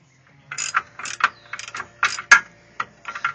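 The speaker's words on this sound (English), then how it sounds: "Alright, so now I'm going to loosen that bolt." A ratchet loosens a bolt on a 1995 Chevrolet S-10, giving a close series of about a dozen crisp clicking ratchet strokes in short uneven bursts with no talking.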